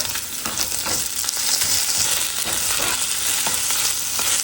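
Potatoes fry in a pan for breakfast with a loud, dense, crackling sizzle that runs steadily and close-up, with small bursts of popping and no talk.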